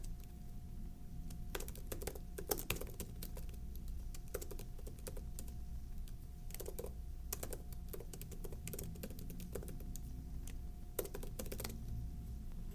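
Steady bursts of typing on a computer keyboard while entering assignment names into a gradesheet, close and clear over a constant low hum, with short pauses between runs of keystrokes.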